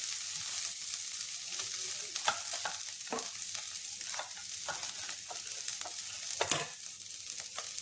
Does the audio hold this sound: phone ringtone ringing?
no